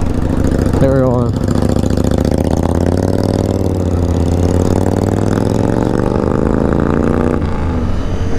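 A motorcycle engine drones loud and close while riding at speed, a constant heavy rumble with pitch slowly rising and falling, with brief talk near the start.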